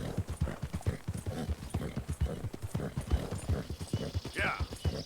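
Horse hooves clip-clopping steadily at a walking pace in the Red Dead Redemption 2 game world, a regular close rhythm with a brief whinny near the end.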